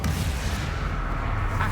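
A Confringo spell blast from Hogwarts Legacy gives a dense, booming burst of explosive noise lasting the whole short moment, loud and close with no voice over it.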